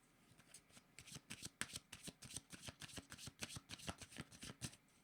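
A deck of tarot cards is shuffled by hand in a steady run of soft riffling, flapping bursts, close and fairly quiet, with no voice over it.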